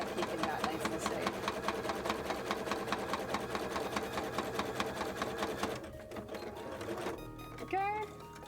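A sewing machine stitches cosplay pieces in a rapid steady run for several seconds, then stops, leaving brief quieter handling noises and a faint voice near the end.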